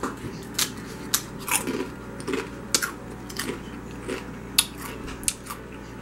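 Loud, close crunching of Wavy Pringles Sweet & Tangy BBQ potato chips, with sharp bites spaced a second or so apart and smaller crackles of chewing between them, no talking.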